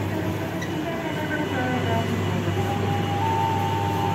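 Kuto Jaya Utara train standing at platform 2 of Kutoarjo station at night, a steady low rumble and hum with a rising tonal whine, under a busy station ambience.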